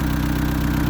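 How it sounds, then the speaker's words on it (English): A Honda Civic race car engine idles in a steady, smooth low rumble, close and alone. "you hear how good this thing idles, right?"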